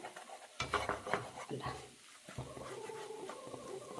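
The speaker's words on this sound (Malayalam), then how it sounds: "നമ്മുടെ മുട്ടയങ്ങ് ചിക്കിയെടുക്കാം" Eggs are scrambled and stirred in a hot pan for a spicy masala dish, with a soft sizzle under repeated scraping and stirring strokes, close and fairly quiet, with no talk.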